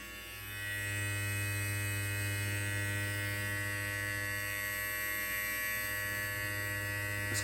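BabylissPRO LithiumFX hair trimmer switched on and left running, a quiet steady electric buzz with a low hum and thin high whine, constant and close with no talking.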